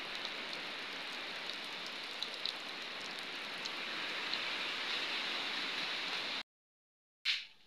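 Steady rain pours down as a constant hiss for several seconds, then stops abruptly, with a brief burst of rain returning at the end.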